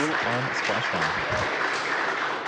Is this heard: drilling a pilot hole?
no